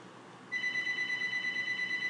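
A telephone ringing indoors, starting about half a second in with a steady, bright electronic tone that continues alone and fairly faint through the rest of the moment, over a low background hiss.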